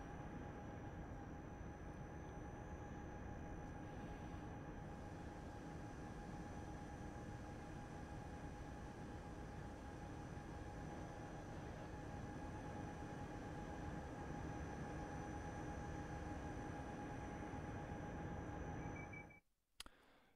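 A train in Train Simulator 2022 runs steadily on the line toward Paris, giving a continuous rumbling drone with a few sustained tonal hums, then cutting off abruptly near the end, with no talk over it.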